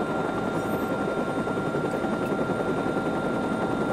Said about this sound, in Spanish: Hemos hackeado el helicóptero.